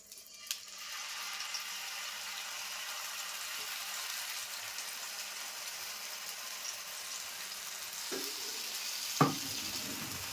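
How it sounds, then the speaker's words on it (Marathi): Ground masala paste sautéing in a little oil in a pan gives a steady, close sizzle for several seconds, broken by a couple of sharp clanks near the end; no voices. "आता पॅनमध्ये थोडंसं तेल टाकते आणि हे वाटण आपल्याला टाकून घ्यायचं आहे"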